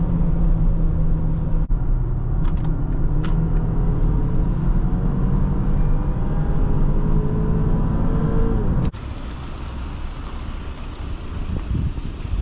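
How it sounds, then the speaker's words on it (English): A 2023 BMW X3 30i xDrive taking a corner at close to 70 mph, heard as a steady loud engine drone and road rumble with tyre noise from inside the cabin. The sound drops abruptly near the end. "we're taking this kind of corner at almost 70 miles an hour"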